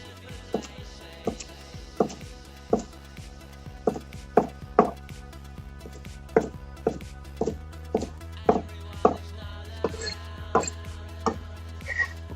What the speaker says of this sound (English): I'm gonna start chopping my basil. Just rough chop.